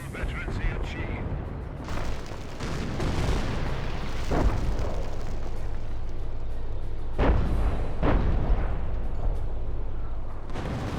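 Artillery booms and gunfire roll through a Company of Heroes 1 battle, several heavy blasts and scattered shots spread over the stretch, loud and rumbling beneath a commentator's voice.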